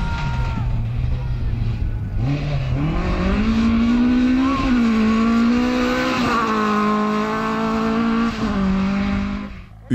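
Fouquet race car driving in a rallycross race, its engine revving up and down in steady rising and falling pitch sweeps, loud and continuous for several seconds, with a commentator talking over it.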